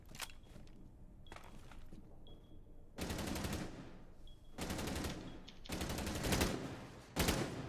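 Bursts of automatic gunfire in a Hydro esports match come in several rapid volleys, separated by short quiet gaps with faint clicks, and the last burst is sharp and close.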